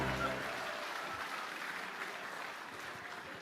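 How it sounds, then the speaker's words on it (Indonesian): An audience of party members at a congress in Solo breaks into steady, dense applause that fills the space, continuing evenly at moderate loudness before tapering slightly. "Tepuk tangan untuk kita semua."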